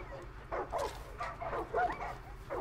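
Dog in the video game Far Cry 5 barking at cardboard boxes, a run of short yips and whining barks in quick succession, moderately loud over a low background hum.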